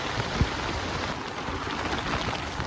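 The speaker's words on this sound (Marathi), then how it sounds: "आणि पाऊस पण जोरदार आहे" Heavy rain pours steadily on a field hut in a storm, with a dense continuous patter and hiss, a few louder drops or thumps standing out, and no speech.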